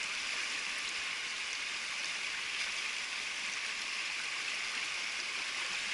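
A stream of running water flowing steadily beside semi-stagnant water, a broad continuous hiss and trickle holding even for the whole stretch, fairly close and moderately loud with no voices.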